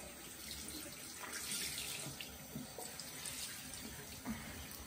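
Bathroom sink tap running steadily while a washcloth is held under the stream to wet it, a close, continuous hiss of flowing water with faint splashes.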